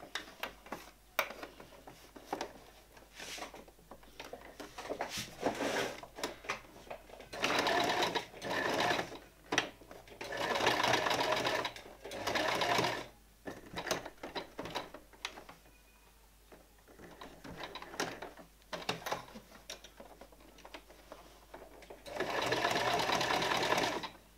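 Domestic sewing machine running bursts of straight stitching along the long side of a shirt sleeve seam, 1 cm from the edge, repeated runs of several seconds separated by pauses, close and fairly loud, with a voice speaking in the gaps.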